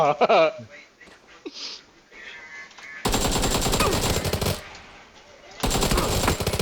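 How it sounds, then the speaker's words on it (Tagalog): Rapid automatic gunfire in PUBG bursts out in two long volleys, loud and dense, following a stretch of talking and game sounds. "May naririnig akong bumabaril."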